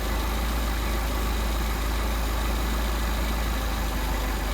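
A Mercedes 190SL engine with Solex 44PHH carburetors idles steadily, a continuous close, even running note with no speech over it while the idle mixture screws are tuned.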